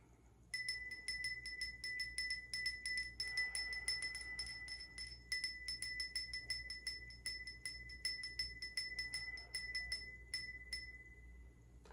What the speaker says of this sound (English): I'm gonna ring this bell, cleanse the energy.